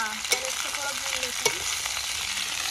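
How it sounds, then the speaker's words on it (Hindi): Shredded cabbage stirred and frying in a kadhai at a village kitchen, with a steady sizzle and occasional scraping clicks of the spatula, close and continuous with no talk. "तो फाइनली ये गई गोभी अपनी कढ़ाई में और इसको थोड़ा चला लेते हैं"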